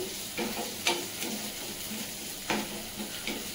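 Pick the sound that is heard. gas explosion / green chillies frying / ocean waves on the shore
green chillies frying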